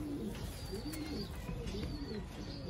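Sialkoti pigeons with a crest pair coo in soft, repeated rolling phrases, close and fairly quiet over a low background rumble, with no voices present.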